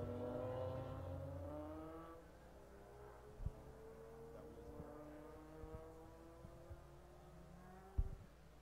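Race cars on track at Buttonwillow during a Super Lap Battle GTA Finals time session, engines revving and rising in pitch at a distance, fading into a fainter drone with occasional small knocks and a sharp thump near the end.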